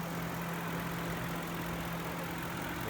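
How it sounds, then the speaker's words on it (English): A Ford Crown Victoria police car's 4.6 liter V8 idles in a steady, low, even drone, faint and unbroken, with no talk over it. "As you see, we have the V8. Now this engine is running."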